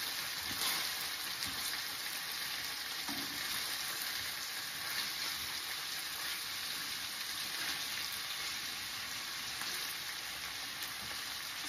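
Sausage browning in a pan for cauliflower jambalaya, a steady even sizzle and crackle of frying, close and constant without talk.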